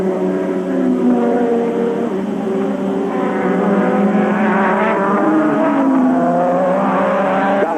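Formula 1 race cars at the Portuguese Grand Prix scream past in a loud, continuous high-revving engine roar, pitch sweeping as the cars approach and pass, with no voices.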